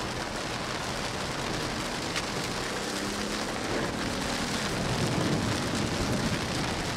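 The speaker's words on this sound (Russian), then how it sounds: "Вот у нас чисто российский классический челябинский дождь. Кошмар, смотри, это кошмар заливает во все щели." Heavy rain drums steadily on the roof of a Volkswagen Touareg in Chelyabinsk, Russia, a dense continuous hiss with faint low rumbles underneath and no voices.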